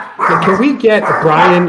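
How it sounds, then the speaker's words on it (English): Pet dogs bark in a home, a few sharp yaps breaking out close by while someone speaks over them. "Sorry about my dogs."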